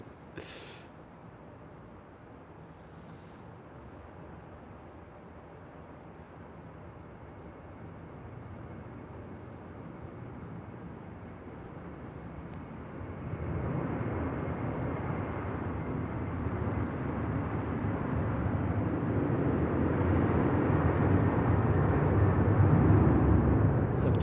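An airplane taking off at MSP airport, a distant jet rumble that swells steadily louder over about twenty seconds into a broad roar.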